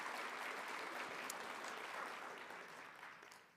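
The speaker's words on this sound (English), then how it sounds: "Round of applause for them." An audience applauds scholarship recipients at an ethnic, gender, transborder studies and sociology summit, dense clapping heard at a distance that fades gradually toward the end.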